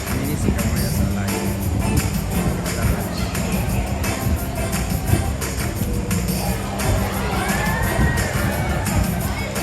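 Audience at a cats and dogs animal show at Singapore Zoo, a steady crowd roar of clapping, cheering and children's shouts filling the whole stretch, loud and close.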